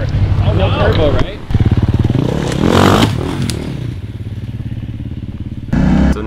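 A 900 XP side-by-side off-road vehicle on a trail ride accelerates hard, its engine roaring loud and close with pulsing revs, clattering and scraping over rough ground while people talk over it.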